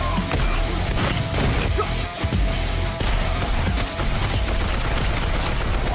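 Rapid gunfire from a dark fantasy souls-like game trailer, dense bursts of shots and crashing impacts over a loud, busy mix, with no voices.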